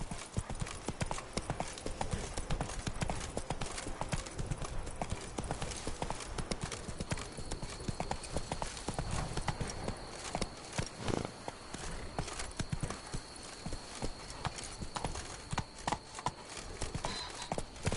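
Horse hooves clip-clop in a steady, continuous rhythm throughout, galloping across ground in The Witcher III: Blood and Wine, with a faint high tone from the game underneath.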